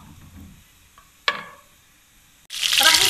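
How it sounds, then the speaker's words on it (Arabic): Chicken pieces hit hot melted butter and oil in a pan, a sharp burst then loud steady sizzling frying after a brief clink. "نحطو عليهم قطع الدجاج، نحمرو صاع الدجاج نحمروه قبل"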